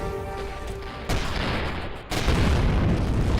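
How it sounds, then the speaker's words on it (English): Alien cannon fire in the space game Avorion, with heavy booming impacts that hit abruptly and leave a sustained loud, rumbling roar, preceded by a fading tonal hum. "Oh great, I'm taking cannon fire"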